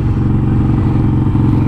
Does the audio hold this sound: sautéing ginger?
no